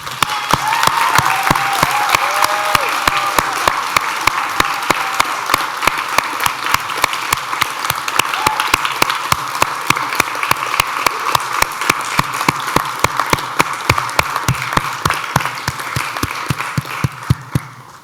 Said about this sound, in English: turn around and applaud your families and friends whose loving support brought you to this day